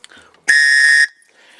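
A survival-kit emergency whistle gives one loud, steady shrill blast of about half a second, standing alone after a little faint handling noise.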